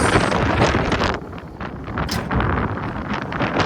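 Strong wind buffets the microphone in a continuous roaring rush, loud and close, with gusts swelling and easing and no voices.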